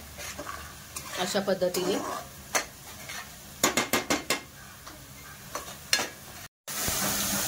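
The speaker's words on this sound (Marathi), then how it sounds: "तीन मीडियम साईजचे कांद्याची पेस्ट आहे आणि ती एकदम व्यवस्थित गोल्डन ब्राउन अशी मस्त शिजवून घ्यायची आहे तेलामध्ये" Paste made from three medium onions fries in oil in a pan, with a crackling sizzle under repeated sharp metal stirring and scraping strokes. A brief word is spoken partway through, then a louder hiss near the end.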